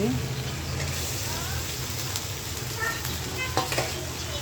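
Cauliflower and potato drop into sizzling spice masala in a pan, a steady close frying hiss with stirring scrapes and a few louder clatters near the end, no talking.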